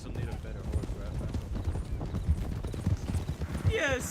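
Horse hooves clip-clop in a steady rhythm in Red Dead Redemption 2 on a WildRP roleplay server, close and clear with people talking over it throughout and a brief whinny near the end.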